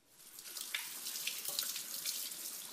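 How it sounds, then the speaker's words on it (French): Cold tap water runs steadily into a sink over blanched, drained olives, a continuous bright splashing stream with no voices. "je les égoutte et je vais mettre de l'eau froide dessus."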